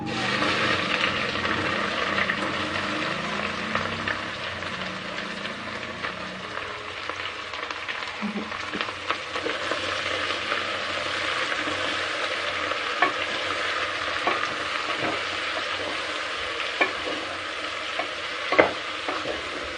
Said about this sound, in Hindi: अब इसमें हम प्याज डाल लेते हैं